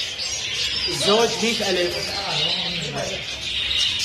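European red-eyed lovebirds for sale at a Baghdad bird market chirp and twitter in a busy chorus, with someone talking over the birds throughout.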